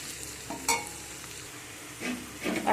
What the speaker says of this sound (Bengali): দিয়ে দেব কুচিয়ে রাখা আদা, দিয়ে সব কিছুকে ভালো করে ভেজে নেব